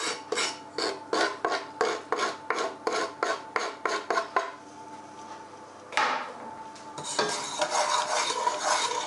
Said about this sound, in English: the cumin seeds and just crackle them in the oil.